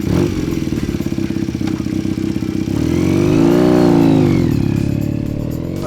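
Custom Honda CB250 motorcycle on a test ride: a close, loud, throbbing single-cylinder exhaust note that rises in revs as the bike accelerates through the gears, with steady engine pulses throughout.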